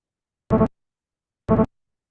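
Two short, evenly spaced buzzy bursts from the brain's frequency following response to the syllable "da" are played back, each lasting about a fifth of a second and separated by silence, with no talk.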